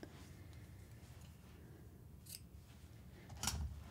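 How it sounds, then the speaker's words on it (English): Scissors snip through knitting yarn close by, trimming the ball end off a knitted tea cosy, with soft crisp cuts over faint room noise and a sharper snip near the end. "cut off the ball end of the yarn"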